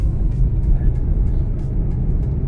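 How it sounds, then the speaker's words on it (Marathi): A car pulls away in city traffic during a driving lesson, its engine a steady low rumble rising slightly, with faint passing vehicles around and a few brief voice fragments. "लगेच एक्सलेटर द्यायचा, वाढवा स्पीड"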